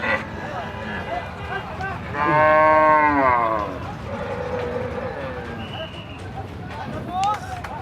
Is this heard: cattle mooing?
yes